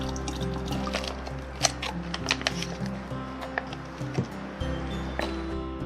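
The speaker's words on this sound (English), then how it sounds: "I am completely out of water, so I am refilling my supply at this stream." A water bottle fills at a small stream, with liquid gurgling and trickling steadily close by and faint outdoor background noise around it.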